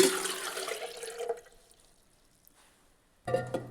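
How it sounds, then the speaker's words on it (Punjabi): Lukewarm water pours into a jug while dough is being prepared for radish parathas, a short splashing gush that fades to near silence before another brief burst. "ਪਾਣੀ ਆਪਣਾ ਕੋਸਾ ਹੋ ਚੁੱਕਿਆ ਹੈਗਾ ਤੇ ਇਹਨੂੰ ਆਪਾਂ ਹੁਣ ਕੱਢ ਲੈਣੇ ਜੱਗ"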